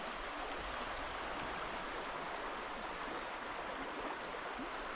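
River rapids on a wooded state trail rush in a steady, dense roar that stays loud and unbroken throughout, with no voices.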